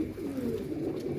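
A pigeon gives a soft, low cooing call close by, one rolling burble that lasts about a second over quiet background noise.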